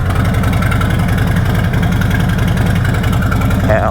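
A Harley-Davidson motorcycle engine fitted with a Two Brothers 2-in-1 exhaust rumbles steadily and loudly up close, a deep throbbing idle that holds throughout, echoing inside a parking garage.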